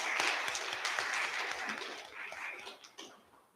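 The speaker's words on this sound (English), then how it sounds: "can we all just give Gil another round of applause" Audience applause at a city meeting in Bloomington, a room of people clapping steadily for a few seconds before tapering off toward the end.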